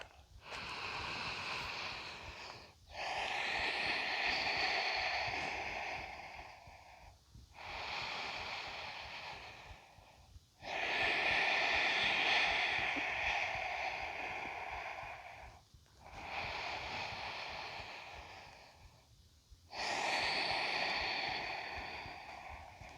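Slow, deep breaths during a yoga flow, six long cycles of steady airy inhales and exhales, close and soft, each separated by a brief pause.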